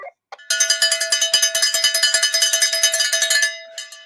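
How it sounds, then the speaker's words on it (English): A small bell, cowbell-like in tone, is struck in a rapid run of about twenty even clangs over three seconds, loud and close, with a couple of lighter taps before and after. "Let's ring the bell."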